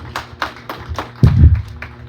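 A Pentecostal church congregation clapping in rhythm, a string of sharp hand claps at regular intervals, close and fairly loud, with a brief louder thump partway through.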